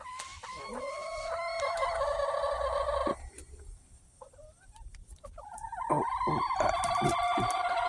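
A chicken in its coop gives loud, close, tonal calls in two bursts, each ending in a sharp cluck, with a quieter pause between them and no talking.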